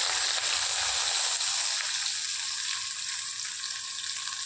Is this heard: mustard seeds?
yes